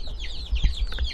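Young purebred chicks chirp and peep in a rapid, busy chorus at moderate volume, with low rumbling handling noise underneath.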